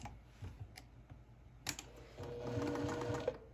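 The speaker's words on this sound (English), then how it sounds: "Sew a couple stitches just till you sew through both fabrics" A sewing machine stitches curved fabric pieces for a quilt, starting with a few faint clicks and then running in a quiet, steady whir toward the end.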